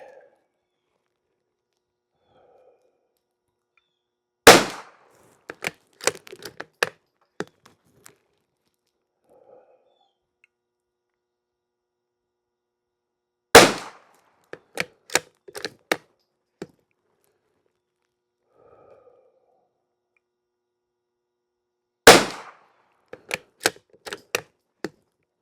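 A rifle fires unlubed CCI standard velocity rounds: three sharp, loud single shots spaced roughly nine seconds apart, each followed by a quick scatter of lighter mechanical clicks and clatter, with near silence between.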